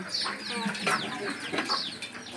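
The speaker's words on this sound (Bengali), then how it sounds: "ও মুরগি সব ঘরে উঠছে" Several chickens cluck and squawk close by in a farmyard as they head into their coop at dusk, a busy, overlapping chorus of short calls with no talking.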